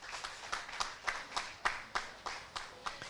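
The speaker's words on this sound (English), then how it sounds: "Give him a round of applause." Faint, sparse clapping at a 2019 festival stage show, about a dozen separate, evenly spaced hand claps heard from a distance with no talking over them.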